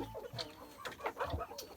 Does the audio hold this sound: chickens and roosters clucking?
yes